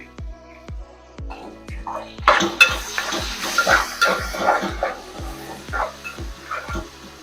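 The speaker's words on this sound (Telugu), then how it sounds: "ఇలా కలుపుతుండాలి లేకపోతే ఆనియన్స్ అనేవి మాడిపోతాయి" A spoon stirs onions and curry leaves in a pan, tapping out regular, evenly spaced clicks, with a brighter sizzle rising partway through and continuing at moderate volume.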